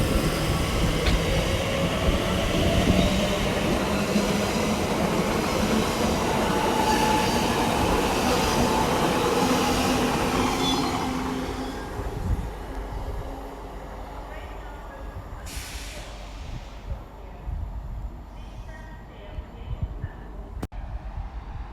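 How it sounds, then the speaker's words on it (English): A TfL Rail Class 345, unit 061, passes through Ealing Broadway on the Great Western Main Line, a loud rushing roll with wheel whine that fades after about twelve seconds into quieter station ambience with a voice. "love the trains go zooming through on those two tracks."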